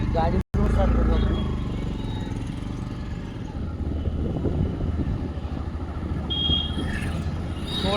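A vehicle engine runs at a steady idle, a low continuous rumble under a voice talking nearby throughout.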